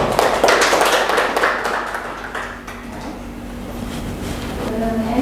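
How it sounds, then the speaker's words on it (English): Audience applause after a ninth-grade student presentation at an Islamic middle school, a broad crackle of clapping loudest in the first seconds and tapering into lighter scattered claps, with faint talk and room noise underneath. "Okay, give applause to"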